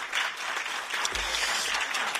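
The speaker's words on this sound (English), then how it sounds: "big round of applause." An audience at an EU quality products conference claps for the panel as it takes the stage, a broad continuous wash of applause held for a couple of seconds at moderate distance.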